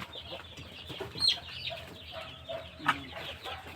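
Several Brahma chickens cluck and chatter nearby at a breeder, with occasional sharper squawks rising above a low, busy background.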